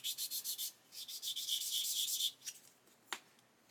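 Quick rhythmic rubbing of a worn sanding stick on a plastic 1/24 scale model aircraft part, a burst of short strokes followed by a longer run and a few scattered scrapes.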